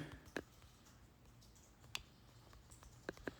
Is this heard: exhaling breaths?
no